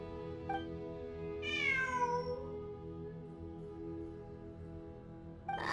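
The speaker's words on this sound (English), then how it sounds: "It really is a cat." A cat gives a single drawn-out meow with a falling pitch, clear and fairly close against a quiet background hum, followed near the end by the start of another call.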